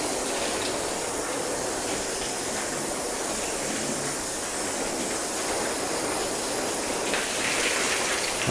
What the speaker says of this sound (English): But we'll go ahead, rinse that soap off.